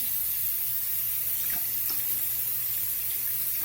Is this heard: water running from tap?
yes